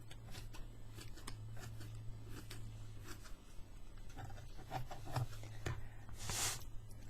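Scissors trimming loose fabric ends on a textile scrapbook page, a series of soft, close snipping and rubbing sounds at an uneven rhythm, with a low steady hum underneath.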